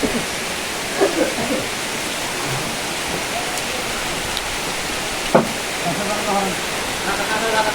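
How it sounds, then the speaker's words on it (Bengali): Rain falling steadily in a village, a dense even hiss of drops with a few faint knocks and clatters scattered through, loud and continuous. "কি সুন্দর বৃষ্টি দেখছেন,"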